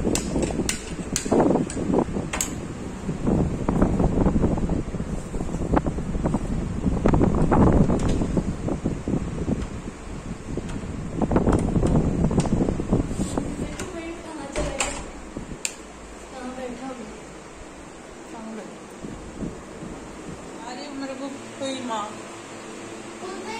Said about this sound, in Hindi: इतना तेज हवा चली पूरा गैस ही बुझ गया